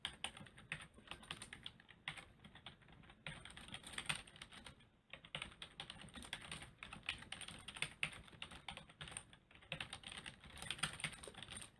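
Rapid, uneven keystrokes on a computer keyboard, a busy clatter of clicks that runs continuously with brief pauses, close and fairly quiet, with no talking.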